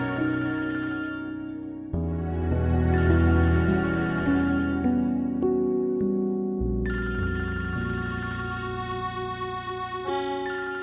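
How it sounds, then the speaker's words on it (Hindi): A mobile phone ringtone plays a loud, melodic electronic tune that repeats in phrases for several seconds, alone with no voices, in a Pakistani drama scene. "फोन उठा लो, कोई जरूरी कॉल हो सकती है।"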